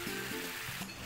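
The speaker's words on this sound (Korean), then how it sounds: "프라이팬에 가지와 케이퍼를 볶은 뒤 토마토 양념을 넣어주는데" Eggplant and capers fry in a pan, a dense, close, continuous sizzle with light stirring scrapes and a couple of soft knocks.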